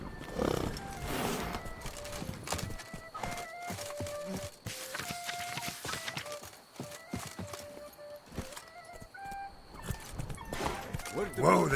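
Roach, a horse in The Witcher 3, clip-clops along with occasional whinnies under steady game music and a voice, hoofbeats fairly close and continuous.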